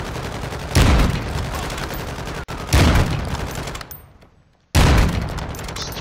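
Loud gunfire in a multiplayer shooter game on Ashika Island, three heavy bursts of automatic fire separated by brief pauses, close and alone with no talk.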